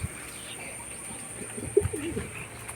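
A racing pigeon coos softly in a loft among other pigeons, a short, low, gurgling call rising briefly over a quiet background hiss.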